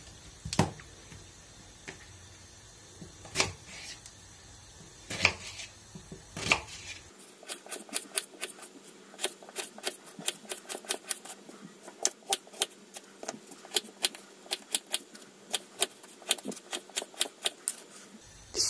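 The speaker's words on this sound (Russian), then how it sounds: "я беру такие две большие картошки, одна побольше, одна поменьше, и режу их кубиками" Knife chopping two large potatoes into small cubes on a board for a white soup, with scattered sharp knocks at first, then a quick steady run of light, crisp cuts.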